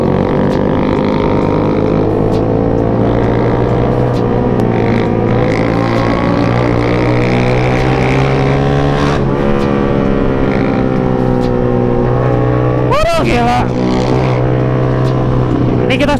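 Yamaha Jupiter MX underbone motorcycle speeding on a touring ride, a loud steady engine drone with rising harmonics and a brief sharp pitch sweep near the end, heard close from the rider's position.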